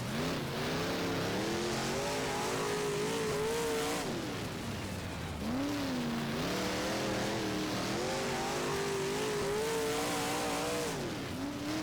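Big block modified dirt race cars roaring in the rFactor racing game, engines droning loud and close with rising and falling revs as they accelerate and back off through corners, a continuous growl with no talk.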